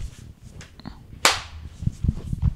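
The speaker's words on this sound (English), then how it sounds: "Right, clap." One sharp, bright hand clap rings out in a dressing room, loud and close, followed by low murmuring and soft shuffling.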